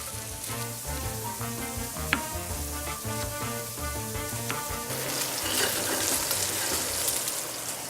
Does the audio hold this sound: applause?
no